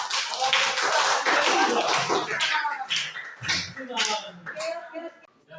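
A classroom of students applauds, a burst of dense hand clapping that gradually thins out into scattered claps, with a few voices heard beneath.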